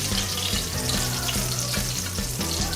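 Large breaded chicken pieces for chicken parmigiana frying in oil in a hot pan, a loud continuous crackling sizzle with a steady hum underneath.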